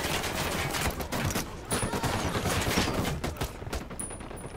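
Dense automatic gunfire in the video game Ghost Recon Wildlands, rapid overlapping bursts of shots crackling loudly and continuously as a firefight plays out, with no talk over it.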